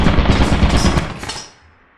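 Rapid machine-gun fire in the horror video game Lethal Company, a loud dense burst of shots that stops abruptly and leaves a short fading tail.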